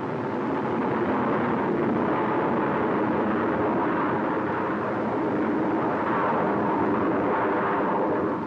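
A Little Joe II rocket lifts off in an Apollo launch escape test at White Sands Missile Range, New Mexico. It makes a dense, continuous roar that holds steady and loud for the whole stretch, with no voices.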